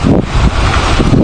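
Loud wind rumbles against the microphone at an outdoor shooting range, a brief, steady low roar with rough gusting bursts and no voices.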